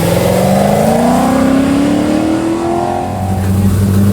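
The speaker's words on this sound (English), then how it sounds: "1991 Corvette, packing an LS7" A 1991 Chevrolet Corvette with an LS7 engine accelerating hard at an autocross, its loud close engine note climbing steadily in pitch, easing briefly, then pulling again.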